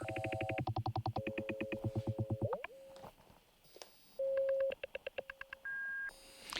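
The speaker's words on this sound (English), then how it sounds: "I am taking all the sounds going into the Kunsa, including the self-oscillating filter, and patching them into Fumana" Glitchy modular synthesizer patch fed through a Fumana spectral processor, with a self-oscillating filter: stuttering tonal bursts, rapid rhythmic pulses and sustained beeps that start, stop and shift pitch abruptly.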